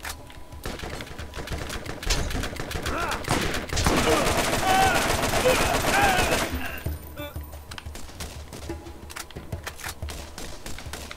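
Rapid, sustained volleys from an imprecise gun in the game Borderlands, a dense stream of shots that swells loudest midway, then tapers into sparser scattered bursts, with a voice speaking intermittently.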